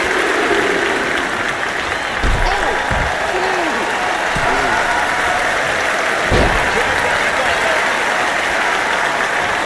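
Arena crowd noise in the wrestling video game WWE 2K25, a steady roar of cheering and applause with a few heavy thuds from the ring, continuous and loud throughout.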